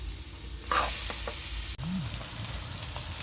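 Spice masala with jackfruit and a little sugar being sautéed in a pan, a low continuous sizzle with occasional soft scrapes of stirring and one brief knock.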